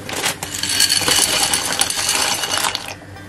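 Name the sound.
dry macaroni being poured into a pot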